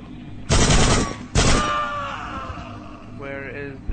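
Two loud, booming shots from a giant gun in the game Hitman Blood Money, each ringing out with a metallic tail, followed by a fainter electronic tone near the end.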